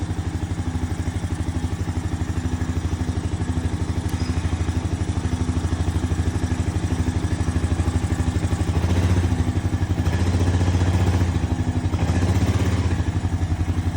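A four-wheel-drive auction quad ATV runs steadily at close range with a loud, even mechanical clatter, and its engine rises a little toward the end as it is shifted into gear.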